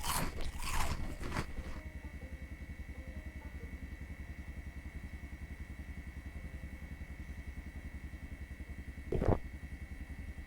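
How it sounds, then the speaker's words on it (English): Eating a hearty salad in the video game Project Zomboid, a few loud crunchy bites at the start and another brief crunch later, over a steady low rumbling hum. "Eat the whole salad."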